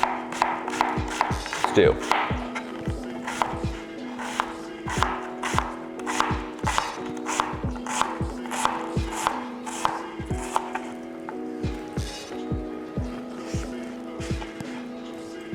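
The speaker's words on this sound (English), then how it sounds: "I'm just going to slice these onions, and I'm going to actually slice them in quarters" Knife slicing onions into quarters on a cutting board, a steady run of sharp chops close by, about one per half second, with a cook's voice talking between them.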